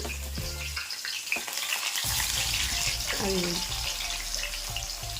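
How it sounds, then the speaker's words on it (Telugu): Bitter gourd pieces deep fry in hot oil, giving a steady, close sizzle and bubbling that runs throughout, with brief clatters and a few low bumps from the pan. "మంచిగా డీప్ ఫ్రై అవ్వాలి మనకి కాకరకాయలు"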